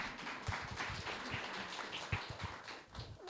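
Audience at an investor panel event with elevator pitches clapping together, a dense patter of many hands that stays fairly even and moderately distant.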